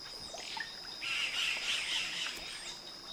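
Liquid, squawking calls of yellow-rumped caciques ring out repeatedly over a faint background hum, a series of bright whistles and harsh notes fairly close by.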